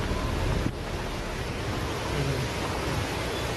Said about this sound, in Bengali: এখান দিয়ে পুরো ঝর্ণার আওয়াজ হচ্ছে